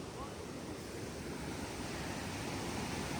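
A full-force waterfall gushes in dense, continuous white roar, steady and moderately loud throughout with no distinct breaks or voices.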